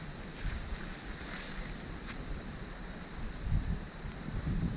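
Wind blowing across open water, a low, steady rumble of buffeting gusts against the microphone, swelling slightly toward the end, with no voices.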